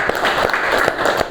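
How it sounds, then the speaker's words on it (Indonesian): A short round of classroom clapping for two student groups, distinct rhythmic hand claps close by and fairly loud over a brief stretch. "tepuk tangan buat 2 kelompok ini ya"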